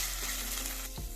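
Ginger garlic paste and curry leaves sauté in a pan for a Kerala-style vegetable stew, giving a loud, steady sizzling hiss with a brief stirring scrape near the end.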